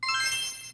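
A shimmering magical chime sweeps upward in bright tinkling tones, then sustains and fades gently, heard alone.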